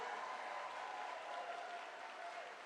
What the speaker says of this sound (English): Let's give another round of applause to Tulsi Gabbard